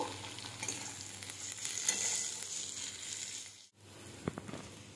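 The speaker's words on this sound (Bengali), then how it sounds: "পেঁয়াজটা আমি ভালোভাবে ভেজে নেব" Chopped onions fry in oil left from frying fish, making a quiet, continuous sizzle and crackle. It cuts out for a moment and then comes back with a few stirring knocks.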